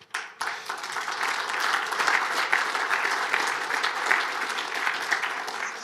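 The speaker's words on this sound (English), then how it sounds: "I didn't say that to get an applause" A crowd at a Morocco Now event in Amsterdam breaks into sustained applause, dense clapping that swells after a brief opening and stays loud and even to the end.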